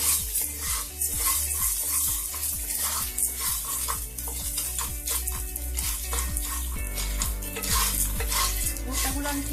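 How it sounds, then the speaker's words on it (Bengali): Dry popcorn corn kernels are stirred in hot oil in a pan, with rhythmic scraping strokes over a loud, continuous frying sizzle and light clinks of utensil on metal. "এখন আমি শুকনো ভুট্টাগুলো দিয়ে দিব।"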